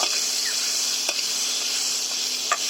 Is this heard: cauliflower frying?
yes